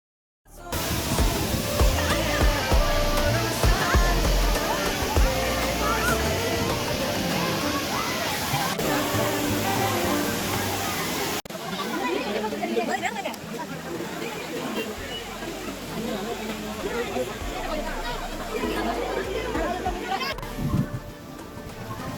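Heavy water pours down at Five Falls in Courtallam, a loud, steady broadband rush that continues throughout with no pause, with faint crowd murmur mixed in.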